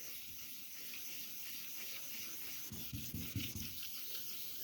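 Wet sanding of car paint on a Ford Escort MK1 with 1200 grit sandpaper, a soft steady rubbing hiss that thickens into a few louder scrubbing strokes toward the end, heard close and alone.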